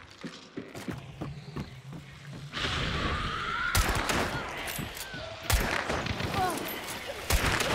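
Gunfire in the video game Hunt: Showdown 1896 during a Bounty Clash match, with sharp sporadic shots and impacts over steady mechanical game noise, a few cracks standing out loud and close.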